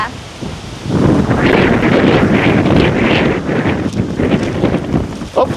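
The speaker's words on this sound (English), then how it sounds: "Holy cow, it's windy." Strong outdoor wind buffeting the microphone, a loud, continuous roaring rumble that swells and holds for several seconds, with a brief quieter lull at the start.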